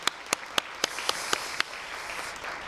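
A church congregation gives a round of applause in thanks and praise, several sharp claps sounding out in the first half before trailing into a softer, diffuse patter in the reverberant hall.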